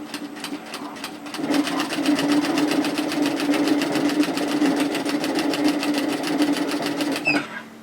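A sewing machine runs a seam on a skirt, a rapid, even stitching rattle with a steady motor hum, starting after a brief softer lead-in and stopping abruptly near the end, close up.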